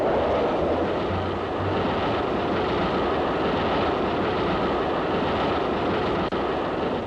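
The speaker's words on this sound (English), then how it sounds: "the train slows down for safety" A narrow-gauge train rumbles along continuously, slowed down, with a loud, even roar of wheels and carriage noise, and there is no clear clacking rhythm.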